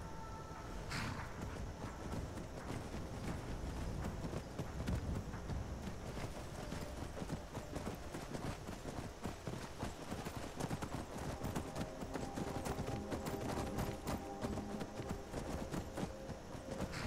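Horse hooves gallop in a quick, steady clip-clop rhythm across the Skyrim landscape, a continuous run of hoofbeats at moderate volume with no voices.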